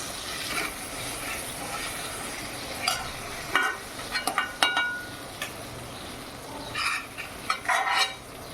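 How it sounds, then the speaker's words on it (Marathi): Banana pieces fry in ghee with a steady, soft sizzle, close by, broken by spoon scrapes and clinks against the pan. No one speaks. "बघा अशी आपली केळी छान फ्राय झालेली आहे"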